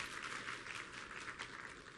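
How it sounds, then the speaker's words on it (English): Faint, distant applause from an audience at an industry planning briefing, a soft steady patter of many hands lasting a couple of seconds. "Give them a round of applause"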